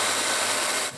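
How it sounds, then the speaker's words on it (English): A power drill bores a hole through a workpiece while making a wooden caddy, with a loud steady whine close by that cuts off abruptly at the end. "After tracing the line, I drill a hole just beside it."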